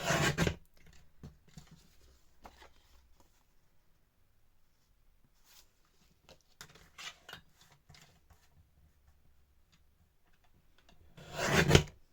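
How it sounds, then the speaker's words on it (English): A mini paper trimmer cuts down one side of a sheet of paper, with a few short bursts of blade sliding and scraping at the start, in the middle and at the end, separated by quiet handling. "And I'm going to use my mini trimmer for that. So to begin with, I'm just going to cut down one side"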